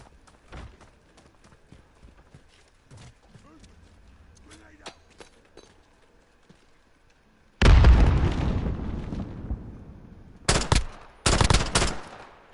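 A C4 bomb goes off in a shooter video game, a sudden loud blast that decays slowly, then a couple of sharp bursts of gunfire. It follows a stretch of quiet footsteps and soft ambience.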